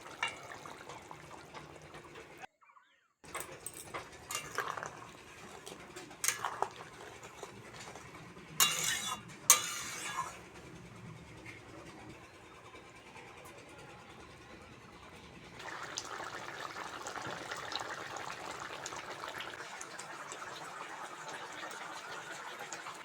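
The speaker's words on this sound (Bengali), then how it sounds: "আলু আর কাঁকরোলটা সিদ্ধ হয়ে গেছে সর্ষেটা একটু জলে গুলে দিয়ে দিচ্ছি" Mustard paste thinned with water is poured into a simmering potato and teasel gourd curry. The result is soft liquid pouring and splashing with intermittent clinks, then a steady bubbling simmer, and no talk.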